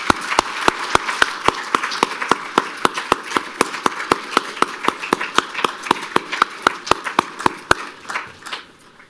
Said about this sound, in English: If we can have one more round of applause for all the inductees this evening